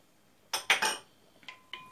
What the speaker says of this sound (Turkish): Şöyle eriyene kadar biraz karıştıracağım.